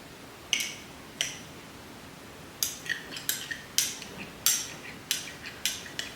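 A spoon handle taps and scrapes against a pot of barbecue sauce made from tomato and fat, giving a dozen or so sharp, quiet clinks at irregular intervals, close up, with no one talking.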